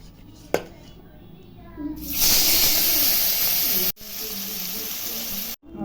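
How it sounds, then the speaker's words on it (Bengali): Small fish frying in oil in a wok, a loud steady sizzle that swells in about two seconds in and holds, broken by brief cuts, with a sharp clatter near the start. "এখন এই ছোটো মাছগুলো ভেজে নিচ্ছি।"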